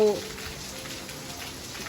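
A hard morning downpour pours in a steady, close wash of drops striking surfaces; a brief tonal sound opens it, then the rain carries on alone.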